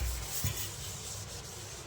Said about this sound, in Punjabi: ਇਹਦੇ ਨਾਲ ਰਗੜ ਲਿਆ ਸਕਰਬਰ ਨਾਲ ਸਾਰਾ ਸਿੰਕ